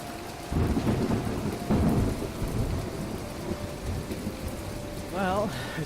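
Heavy rain and rolling thunder in the video game Planet Explorers, a dense steady downpour with loud low rumbles near the start and middle, and a brief warbling tone near the end.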